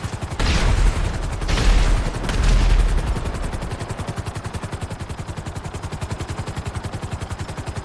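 Helicopter in GTA 5 Online, a quick, agile model kept in the back of the Mobile Operations Center, flying with a steady rapid rotor chop that settles into a regular rhythmic thumping, after a burst of loud gunfire-like blasts at the start.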